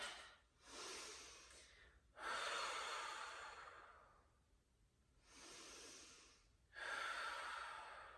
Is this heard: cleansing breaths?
yes